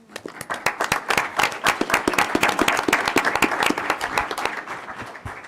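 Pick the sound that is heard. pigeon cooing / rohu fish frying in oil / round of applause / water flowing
round of applause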